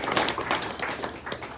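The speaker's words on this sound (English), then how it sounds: "Let's give them a round of applause for doing such a great job." A luncheon audience gives a steady round of applause: dense, even clapping from many hands in a room, moderately loud, with almost no talking over it.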